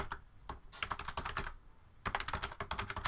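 Quick bursts of clicking keys on a computer keyboard as a name is entered, two runs of rapid typing separated by a short pause, close and clear with no talking.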